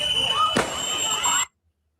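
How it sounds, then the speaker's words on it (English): A single sharp gunshot cracks out midway through a steady background hum, followed by a brief echo before the sound cuts off abruptly. "and we'll listen to the gunshot"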